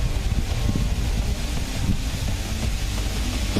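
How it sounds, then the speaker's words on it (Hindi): Dense, roaring wind and rain in Gujarat ahead of Cyclone Tauktae, loud and continuous throughout, with a steady broadband rush and low buffeting. "यहां पर तूफान के आने से पहले ही तेज हवाओं के साथ साथ जोरदार बारिश शुरू हो गई है।"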